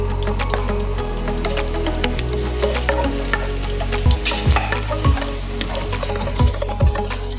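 Ginger sizzles in hot oil in a pan, a steady close frying hiss broken by a few stirring scrapes and clinks.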